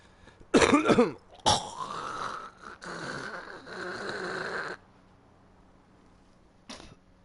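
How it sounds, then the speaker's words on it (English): Several harsh coughs and throat-clearing bursts, loud and close, with a rough rasping stretch in the middle, then silence and one last short cough. "I coughed some bullshit up"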